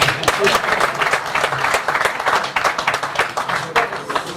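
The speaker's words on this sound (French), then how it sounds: "je vous demande d'applaudir quand même pour moi." Steady applause from a crowd at a project pitch presentation, dense clapping filling the whole stretch with a voice faintly mixed in.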